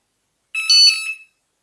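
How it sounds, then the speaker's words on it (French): Prowess carp fishing bite alarms being switched on give a short, bright electronic beep sequence lasting under a second, clear and close with nothing else around it. "Donc là je vais allumer les autres détecteurs."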